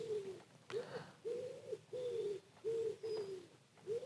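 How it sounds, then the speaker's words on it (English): Pigeons cooing in a garden at a campsite, a steady series of soft, low hooting coos repeating in a regular rhythm, fairly close and alone with no talking. "At least the pigeons are still singing."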